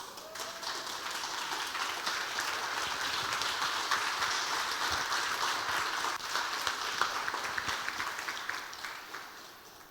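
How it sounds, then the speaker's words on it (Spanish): A church congregation breaks into applause during a sermon, a broad wash of clapping that swells and holds steady at moderate distance, then thins out toward the end. "Dios mío, mínimo un aplauso debe haber."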